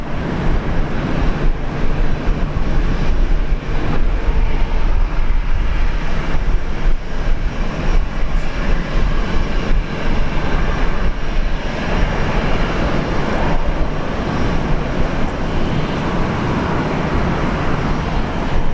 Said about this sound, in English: Qantas 1876, Brisbane Tower, runway 19 right, clear for takeoff